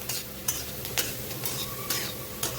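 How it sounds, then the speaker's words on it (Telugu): Spiced potato pieces are stirred as they fry in a pan, giving a steady close sizzle with a few sharp scraping strokes at regular intervals, with no talking. "ఇప్పుడు ఒకసారి బాగా కలిపేసుకోండి ఆ మసాలాలు మొత్తం ఉల్లగడ్డ ముక్కలకి బాగా పట్టేలాగా కలుపుకోండి"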